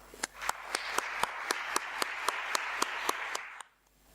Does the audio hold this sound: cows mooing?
no